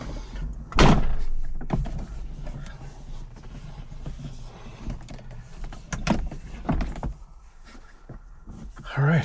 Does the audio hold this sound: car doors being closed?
yes